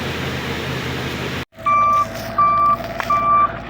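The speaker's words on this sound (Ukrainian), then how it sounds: "Поставив, друзі, до речі, зумер на задній хід із грузового авто." After a sharp cut, a truck reversing beeper fitted to a combine harvesting soybeans sounds three evenly spaced electronic beeps over the steady rumble of an idling engine.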